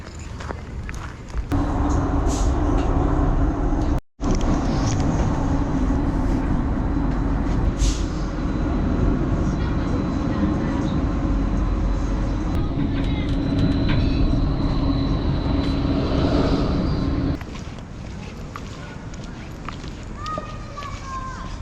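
A loud, steady rumble of a tram riding along rails in Norway, with rattling and a brief dropout, ending in quieter rolling noise.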